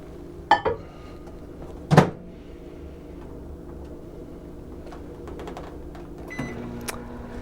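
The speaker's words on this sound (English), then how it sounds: "I'm going to use the microwave for a quick heat up." Microwave oven heating a mug of apple cider: door clunks and button beeps, then a low steady hum with a soft rattle, and a later clack near the end.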